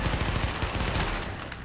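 Gunfire in The Division, played on PS4, comes as a dense, loud stretch of rapid automatic shots that fades slightly toward the end, with no voices over it.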